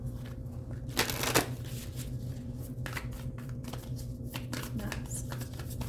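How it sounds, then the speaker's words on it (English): Tarot cards being shuffled by hand during a reading, soft continuous riffling and rustling close up with a few sharper flicks, the card noise steady and fairly quiet throughout. "Before I shuffle the Nine of Cups"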